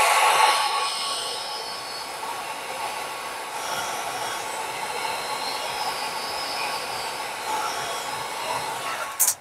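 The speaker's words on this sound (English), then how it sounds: "Let me see what happens if I use my heat gun again" A heat gun blows steadily across a UV resin sea turtle, a continuous airy roar that holds at an even level for several seconds before a brief sharp noise at the very end.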